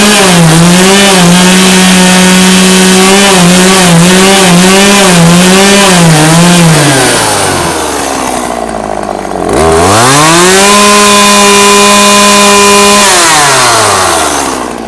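An old, warm chainsaw is loud and close as it runs with wavering revs, bogs down and stops, then fires again and climbs to a steady high-pitched run before winding down, with no talking.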